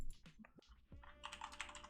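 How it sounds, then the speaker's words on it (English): Rapid clicking of keys on a computer keyboard, close and steady, with a few isolated taps before a denser burst of typing. "what you hear me typing is me taking notes in Notion right"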